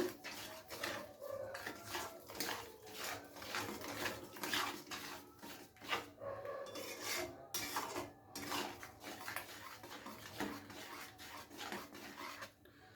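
A spatula or spoon scrapes and clatters in a cooking pot as spices and ingredients are stirred together for a coriander-paste relish, a busy, continuous rattle of metal against metal with no talking.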